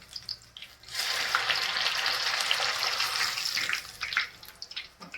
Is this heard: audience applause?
no